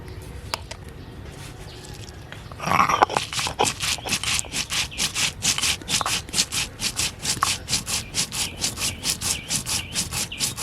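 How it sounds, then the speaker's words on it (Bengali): Coriander and cumin are ground together on a stone, first a few scattered scrapes and then a steady, rhythmic back-and-forth rubbing, close and fairly loud, with no talking. "ধনে আর জিরে একসাথে বেটে নেব।"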